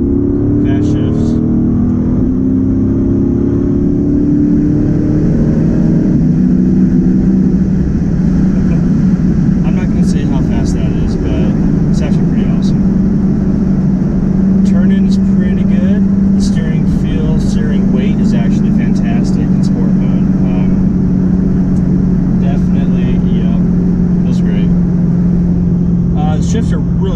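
A 2015 Dodge Charger R/T Scat Pack heard from inside the cabin while accelerating with quick, harsh gear shifts, producing a loud, steady engine drone whose pitch shifts early before settling into a sustained hum.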